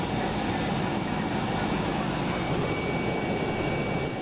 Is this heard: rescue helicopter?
yes